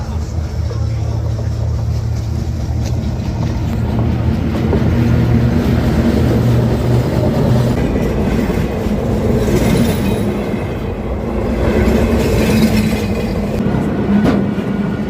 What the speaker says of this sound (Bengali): ট্রেন আসার শব্দ পেলেই যে যার ব্যবসা গুটিয়ে নিরাপদ জায়গায় সরে যায়